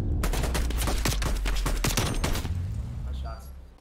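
Rapid gunfire from a 3v3 Search and Destroy match in Black Ops Cold War, a burst of dense close shots for about two and a half seconds with a voice talking over it, then tapering off.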